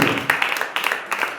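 A church congregation clapping during a service, uneven bursts of hand claps repeating in a loose rhythm, loud and close, with a reverberant hall sound.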